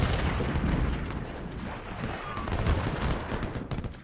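Musket and pistol gunfire from the video game Ultimate General crackles in dense, overlapping volleys, a continuous rumbling barrage of shots with faint voices underneath.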